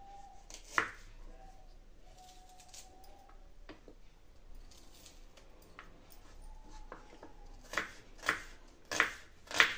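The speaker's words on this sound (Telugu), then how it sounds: "సర్వపిండి ప్రిపేర్ చేసుకునేదానికి ఆనియన్స్ కట్ చేసుకోవాలండి." Onions are cut lengthwise with a knife for sarva pindi, heard as sparse, quiet knife taps on a board that grow into several louder chops near the end, with no one talking.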